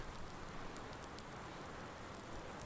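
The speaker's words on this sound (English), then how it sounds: "looks like we've got a bit of a spring rain" Steady spring rain falls in Farming Simulator 19 on the Misty Hills farm map, a constant, even hiss of drops on surfaces with no pauses or voices over the whole stretch.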